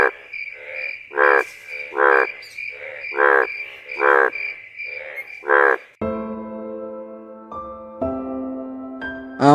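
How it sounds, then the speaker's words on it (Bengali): Frogs croak in a steady, loud rhythm of about six drawn-out calls in a night scene from a Bangla cartoon, then gentle music takes over near the end. "কানে শুধু চারিদিক থেকে ঝিঝি পোকা আর ব্যাঙের ডাক"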